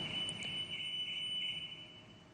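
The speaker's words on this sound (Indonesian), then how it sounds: "alarm mobil Porsche 911 GT3 berbunyi setelah ditabrak pengemudi NPV warna hitam" Car alarm of a Porsche 911 GT3 sounding after being hit by a black car at an imported luxury car dealer, a steady high-pitched electronic tone held continuously, fairly faint and slightly distant.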